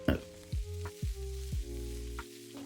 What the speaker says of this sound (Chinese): 接下来把香干豆腐全部倒在锅中，这里我们开大火翻炒均匀